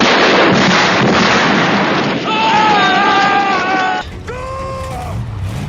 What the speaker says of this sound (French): il tire au canon